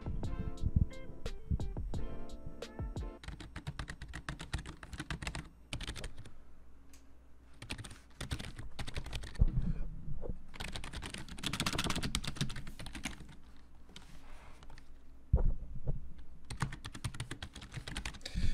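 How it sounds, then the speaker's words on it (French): Keys clacking on a SteelSeries Apex membrane gaming keyboard, a steady close-up stream of soft typing strokes with brief pauses and bursts throughout. "pour un clavier membrane, là, on a vraiment une belle qualité de produit"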